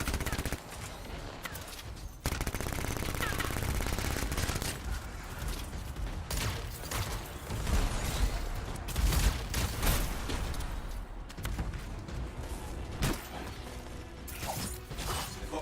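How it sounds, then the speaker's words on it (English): Turrets open fire in the sci-fi shooter Anthem, pouring out dense bursts of rapid gunfire and clanking mechanical rattles that keep going across the scene, loud and close, with a voice speaking briefly over the din. "Turrets of some sort. Those will ruin your day."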